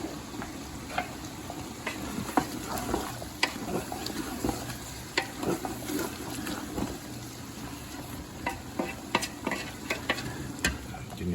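Ground beef frying in a pan with fresh basil and about three bay leaves, a quiet steady sizzle broken by occasional stirring scrapes and clicks, with no voices.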